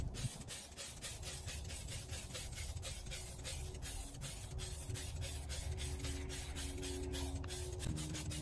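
Clear coat hisses from a spray can onto freshly painted gloss black car rims, a steady close rasping spray that runs unbroken for several seconds with no talking.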